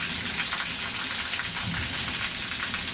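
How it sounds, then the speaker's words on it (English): Hard rain falls in a loud, steady wash, with a low rumble of thunder faintly mixed into the downpour and no talking. "You can probably hear that thunder."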